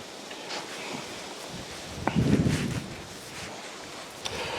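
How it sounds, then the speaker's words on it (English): Wind rushes through a garden, buffeting the microphone with a steady, soft roar, plus a brief louder gust and rustle midway. "Wind is blowing. I hope it's not too bad in the mic."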